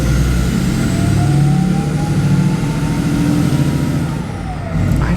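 Cabin drone of a Mega Cab pickup truck on the road, a loud, continuous low engine rumble with a slowly rising whine as it accelerates, easing off near the end.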